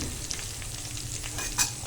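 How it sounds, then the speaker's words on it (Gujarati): Garlic chutney sizzles steadily in a hot pan of browned onions while being stirred, a continuous close frying hiss with a brief clank of the spoon near the end. "હવે થોડી લસણની ચટણી અંદર એડ કરો."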